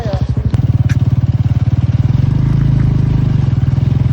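A motorcycle engine thuds in rapid, even low pulses while the bike sits stuck in mud on a rough road to the Kundadri Jain temple near Agumbe, Shivamogga, a close, loud putter that steadies after a brief rev.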